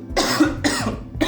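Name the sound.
cough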